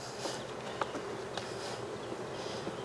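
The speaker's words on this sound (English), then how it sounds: "putting all those lovely nurse bees back in there" Nurse bees from a queen-rearing hive in Jacksonville, Florida, buzz in a steady, dense drone close by, with a few brief louder passes of individual bees over the constant hum.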